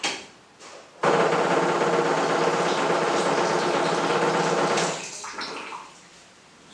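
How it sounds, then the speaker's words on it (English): Water runs steadily through an 11 inch BWPK water filter in a tabletop filter test, a loud continuous gushing rush for about four seconds that stops abruptly, followed by faint dripping and handling noises. "Let us now run some water through the 11 inch filter, which is the BWPK filter"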